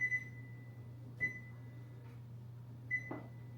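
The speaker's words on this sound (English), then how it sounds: "preheat our oven to 350" Kitchen oven control panel being set to preheat to 350, giving three short electronic beeps spaced about a second or more apart over a steady low appliance hum, close and fairly quiet.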